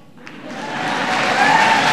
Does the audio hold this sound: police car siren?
no